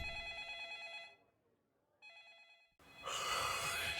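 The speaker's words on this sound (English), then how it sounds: "Damn, that phone is still ringing." A video game telephone bell rings in the Industrial District, two clear repeated bursts separated by a pause, then cut off by a sudden loud burst of other noise.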